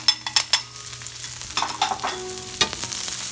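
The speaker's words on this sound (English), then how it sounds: "Now remember, we want to brown that garlic. We don't want to burn it." Fresh shaved garlic with scallions and basil frying in a pan for a portobello sauce, a steady close sizzle broken by several sharp stirring scrapes and clatters, with no talk.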